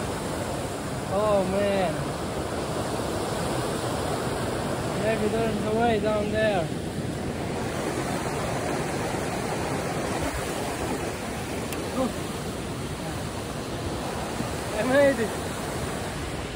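A rushing alpine river with fresh snow on its banks, a steady broadband roar of water that runs throughout and stays close. Someone speaks briefly over the noise.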